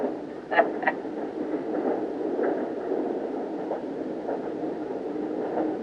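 A train running on rails heard from inside a carriage, a steady low rumble with faint rhythmic clatter and a couple of sharp metallic clicks early on.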